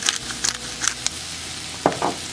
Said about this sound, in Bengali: কিছু মাশরুম এখন যাবে, আবার কিছু মাশরুম যাবে পরে। একটু ভেজে নিতে হবে।